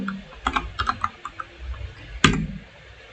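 Fingers type code on a computer keyboard in quick irregular bursts of crisp, close key clicks, ending with one sharper keystroke.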